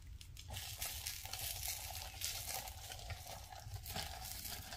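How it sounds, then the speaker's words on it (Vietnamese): Sticky rice cakes rich with coconut milk fry in a pan, giving a steady, close sizzle with crackling pops that keeps going without a break and with no voices. "Xong mình chiên tiếp."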